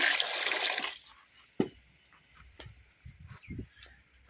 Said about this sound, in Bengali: এদিকে খোড়ার মধ্যে জল দিয়ে দিলাম